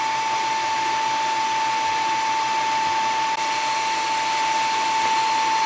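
An xTool D1 Pro infrared laser engraving stainless steel gives a steady, even whine with a constant high tone, running without a break under a faint fan-like hiss.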